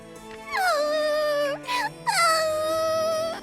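A human voice imitating a dog, producing two drawn-out whining howls with a brief yelp between them, close and fairly loud with no other sounds.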